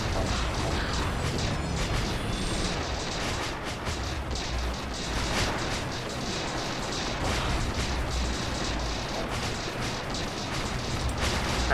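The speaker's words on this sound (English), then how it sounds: "Oh, that is ship's exploding." Ships blowing up in the space strategy game StarDrive, heard as a dense, continuous roar of explosions and weapon fire with rumbling blasts and crackling pops layered over each other throughout.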